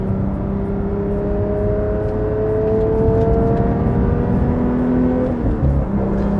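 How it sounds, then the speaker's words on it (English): Porsche 992 GT3 Touring with a manual gearbox, Dundon street headers and a loud titanium center muffler: a steady, loud engine drone from inside the car, its pitch gliding smoothly upward and then settling, no talking. "Now it sounds like a proper GT3"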